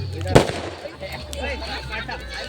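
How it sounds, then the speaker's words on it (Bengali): Green leaves burst in a burning bonfire at a night-time Nera Pora celebration, one sharp loud pop early on followed by crackling and lighter snaps, with voices in the background. "কত সুন্দর কাঁচা পাতাগুলো ও ফাটছে"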